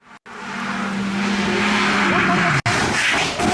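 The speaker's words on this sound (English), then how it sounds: "loses the back end of the car and is into the barriers" A race car loses its rear end ahead of a chicane and skids into the barriers, a loud, sustained engine roar with screeching tire squeal sliding downward in pitch, broken by a couple of brief dropouts and a final rough scrape.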